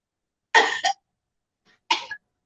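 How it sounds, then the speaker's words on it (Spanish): A person coughs twice after a vocal fold injection, each a short, close, harsh burst separated by about a second of silence. "te van a ver como tose"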